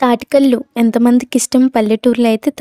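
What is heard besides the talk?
No everyday noises stand out.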